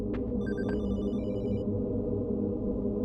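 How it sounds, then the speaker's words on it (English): A telephone rings in the survival horror game Hollowbody, a short electronic trill repeating over a low, droning ambient background, fairly faint and with no one talking. "It's the phone again."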